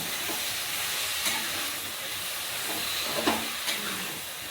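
Fenugreek leaves sizzle and hiss steadily in a hot pan, with a few soft clicks and scrapes, no talking.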